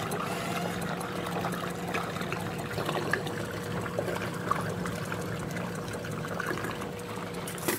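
Baileys liqueur pours steadily from a bottle into an ice cream mix, a continuous close liquid gurgle and trickle at even volume without pauses or talk.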